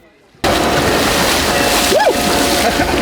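Water splashes and sloshes as people bathe in an ice hole during an outdoor Epiphany celebration. The sound is loud and steady and starts abruptly after a brief quiet moment, with faint voices mixed in.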